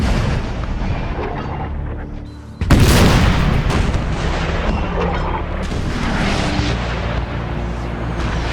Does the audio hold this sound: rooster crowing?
no